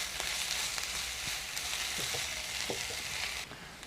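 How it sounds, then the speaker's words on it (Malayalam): Ginger, green chilli and onion sautéing in a pan for fish molee, a quiet continuous sizzle with occasional soft stirring scrapes. "അപ്പം നമ്മുടെ ഇഞ്ചിയും പച്ചമുളകും ഒക്കെ സവോളയായിട്ടങ്ങ് ചേർന്ന് നല്ലതായിട്ട് സോട്ട് ചെയ്ത് വന്നിട്ടുണ്ട്"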